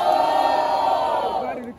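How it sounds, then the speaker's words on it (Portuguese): A crowd at a rap battle cheers and shouts together, a loud sustained roar of many voices that holds steady and then fades at the end. "Barulho quem gostou das rimas de Lipe"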